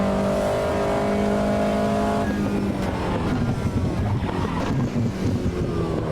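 Race cars roar in the Automobilista 2 racing game, a steady high engine drone with shifting pitch as the car changes gear mid-run, then rougher rumbling and buffeting, loud and continuous with no talk.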